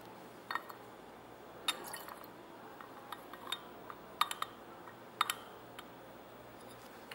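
Faint, sparse glass clinks and light taps ring out from a glass beaker as potassium biphthalate is dissolved, a handful of isolated chimes scattered over a quiet background.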